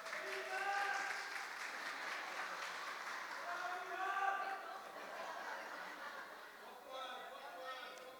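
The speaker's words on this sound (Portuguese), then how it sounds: "Salva de palmas para a Nathalie aí." Church audience applauding for a woman named Nathalie, a quiet, steady wash of clapping heard from a distance, with chatter and some laughter from the crowd running through it.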